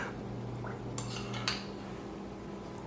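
A tablespoon clinks against a dish while sugar is added, with a couple of light, quick metallic taps close by in an otherwise quiet kitchen.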